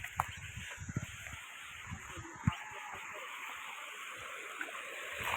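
Fast water pouring down from a waterfall at a dam makes a steady broadband rush, fairly faint, with a few low thumps and bumps near the recorder.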